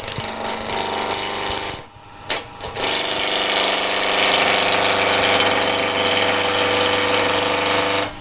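A woodturning gouge cuts along the side grain of a wooden bowl spinning on a lathe, making a loud, harsh, continuous scraping roar that breaks off briefly partway through and then resumes.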